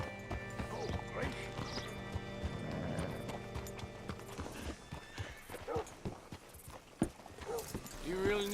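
Horse hooves clip-clopping close by in the video game Red Dead Redemption 2, followed by a horse's whinny, with a few scattered thuds and a sharp hit near the end.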